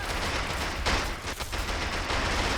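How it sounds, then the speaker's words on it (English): Machine gun fire rattles without pause in the war strategy game Men of War: Assault Squad 2, a dense and loud stream of bursts that keeps going the whole time. "this machine gunner is getting some fire out on the soldiers here"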